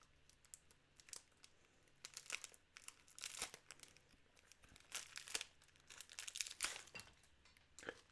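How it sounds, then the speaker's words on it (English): A KitKat wrapper is snipped and torn open with tiny scissors, with close, quiet crinkling and crisp tearing bursts coming in irregular clusters over a soft, near-silent background. "Tiny scissors we need to open."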